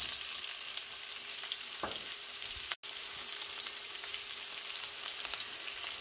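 Onions frying in a pan for a Sri Lankan tin fish curry give a steady, quiet sizzle with faint crackles throughout, broken by a brief dropout partway through.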